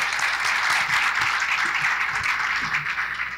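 A crowd applauds steadily at a forum in Belém do Pará, dense clapping sustained throughout at fairly close range, with no one speaking.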